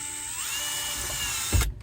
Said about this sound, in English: I'm gonna make some pilot holes here. Don't need to go real deep, just enough to get into the plastic.